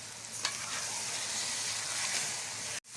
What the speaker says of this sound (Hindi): और इसको 2-3 मिनट हम अच्छी तरह से भून लेंगे।